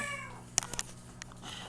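A pet parrot imitates a cat's meow, giving a short nasal meow followed by a few faint clicks and chirps, quiet and close.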